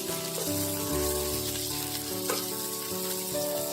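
Butter chicken pieces fry in an oily pan, a dense, loud, unbroken sizzle close up, with faint metallic clicks as tongs squeeze out excess oil, over a low steady hum and no talking.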